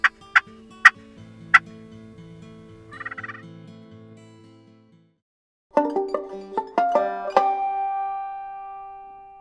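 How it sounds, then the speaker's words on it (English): Wild turkey hen clucks are made on a hunting turkey call: a few sharp, isolated clucks at first, then a quiet gap, then a louder, quicker run of clucks. "Clucks are believed to imitate a contented hen"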